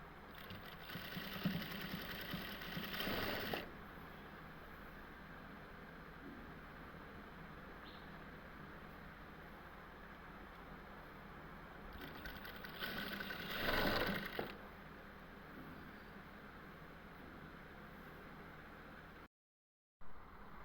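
A sewing machine stitching lace onto a shirt slit whirs in two bursts, one at the start and one later, with a quieter steady hum between them and no talking.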